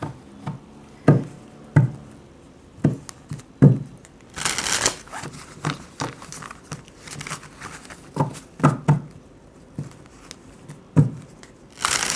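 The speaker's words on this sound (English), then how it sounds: "Shuffle, shuffle. Shuffling." Tarot cards being shuffled with papery riffles and soft taps in irregular bursts, one longer crinkly flurry in the middle, no talking.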